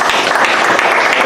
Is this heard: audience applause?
yes